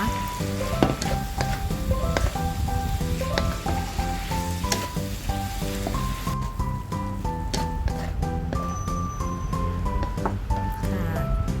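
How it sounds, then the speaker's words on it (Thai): Sliced red chilli, ginger and scallions stir-fried with chicken giblets in a hot pan, giving a steady loud sizzle with rhythmic scraping and clinking of the spatula throughout, no talk over it. "ขั้นตอนสุดท้ายเราก็จะลงพริกแดงซอยขิงซอย ต้นหอมซอยค่ะ แล้วเราก็ผัดให้ต้นหอมสุกก็ใช้ได้แล้วนะคะ"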